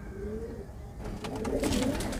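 Indian high-flyer pigeons coo in soft, low, rolling phrases at close range over a steady background hum, with a denser burst of calls toward the end.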